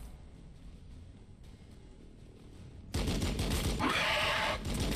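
Overwatch fire from units in Warhammer 40K Battlesector against genestealers: after a quiet low rumble, a loud burst of sustained weapon fire erupts and continues to the end.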